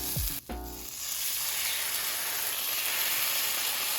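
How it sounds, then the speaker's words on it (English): Mushrooms and fairy tale eggplant go into a hot pan and instantly burst into a loud, steady sizzle that keeps frying evenly without pause. "So I'm just gonna put in the mushrooms and the eggplant."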